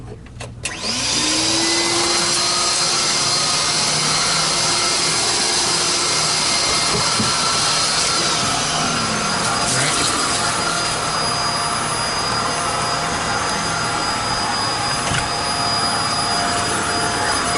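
A Simplicity Synchrony S30 upright vacuum, under repair and running on one of its motors, starts up and holds a loud steady whine and roar close by, with a brief falling tone early on and no talk.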